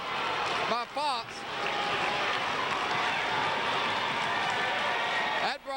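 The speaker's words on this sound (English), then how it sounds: "That brought the crowd to their feet as Gunn tried to stuff it." A gym crowd at a 1998-99 high school boys basketball game, Lafayette vs Oxford, roars steadily after a hard foul, a loud, sustained swell of cheering beneath a play-by-play commentator talking.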